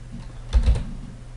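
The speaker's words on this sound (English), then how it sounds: "I need to enter my license code and my password" A short burst of computer keyboard typing, a few quick keystrokes clustered together, close and moderately loud over a quiet room.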